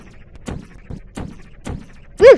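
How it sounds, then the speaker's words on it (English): Fireworks effects in the Portal video game go off as a series of muffled, evenly spaced thumps, followed by a sharper, louder whistling pop at the end. "Woo, fireworks, love doing this."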